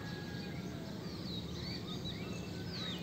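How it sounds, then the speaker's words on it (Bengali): Birds calling in a safari park, several thin chirps and whistles scattered through a steady hum of outdoor background noise, faint and somewhat distant. "চারপাশে এত এত পাখির ডাক।"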